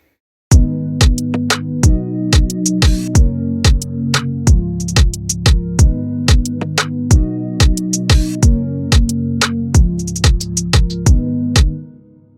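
Bouncy dancehall drums programmed in FL Studio pound out a loud, steady groove of punchy kicks with sliding low tails, crisp snares and hi-hats, all alone with no voices.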